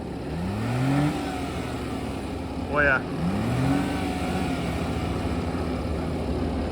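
A Daihatsu Hijet mini truck engine revs in rising sweeps as its dump bed is lifted, up close and steady, with a short voiced remark in the middle.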